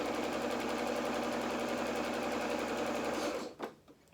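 Sewing machine stitching a dress seam, running as a steady fast mechanical whir with a rapid needle rhythm for several seconds, then stopping abruptly and leaving a short clunk and quiet.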